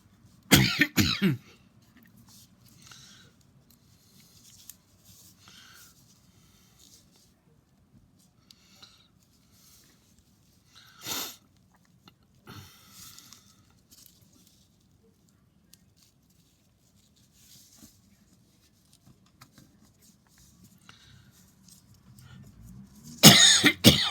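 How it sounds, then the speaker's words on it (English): Several sharp coughs: a loud burst at the start, a single one midway, and another loud cough at the end, with near silence between. "Sorry about the cough."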